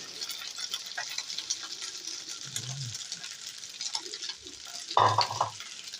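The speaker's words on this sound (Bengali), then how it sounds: "ডিম ফ্রাই হইতেছে" An egg fries in a pan with a steady, close broadband sizzle. Soft stirring and utensil scrapes run through it, and a louder clatter comes near the end.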